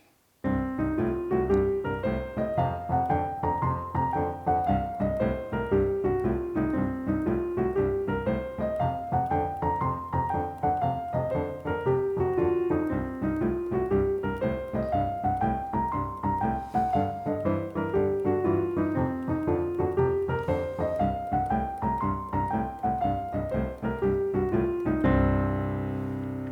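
Solo piano plays a steady blues pattern: a rolling bass figure under right-hand notes that climb and fall in repeated sweeping runs, ending on a held chord.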